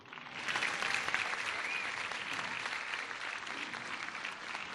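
Steady, dense applause from a large audience at a scholarship event in Querétaro, welcoming the Secretary of Education, holding evenly loud throughout without pause.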